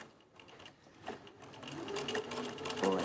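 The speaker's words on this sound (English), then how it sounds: "We can back stitch to hold it at the top, and then we're just going to sew over that pin." A sewing machine stitches fabric and runs over a pin, a close, steady mechanical whirr that builds in loudness, with a voice talking faintly underneath.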